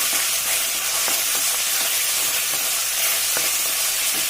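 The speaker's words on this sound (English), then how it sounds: "So the garlic and ginger paste has got fried nicely." Garlic and ginger paste frying in a pan for mushroom masala, a steady close sizzle with a few light stirring clicks, no talking.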